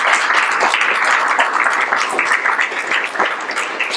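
Audience applause at a poetry slam, a full dense crowd clapping steadily and loudly for the whole stretch, without speech, with scattered sharper individual claps.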